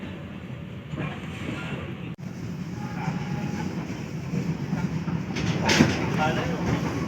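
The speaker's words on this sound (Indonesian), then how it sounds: "Barusan diberangkatkan dari jalur 2 kereta api Jenggala menuju stasiun tujuan akhir Stasiun Indro" A Jayabaya train travelling from Surabaya to Malang rumbles steadily along the rails with a low continuous roar and occasional clatter and squeal, heard from on board or nearby.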